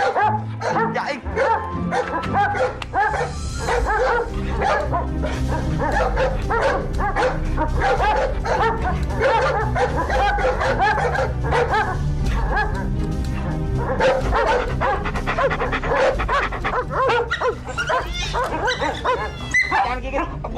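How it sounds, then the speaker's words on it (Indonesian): A cartoon dog barks, yips and whimpers almost continuously and loudly, under a steady stream of excited cartoon voices talking and shouting. "Jangan gigit, guguk, jangan gigit"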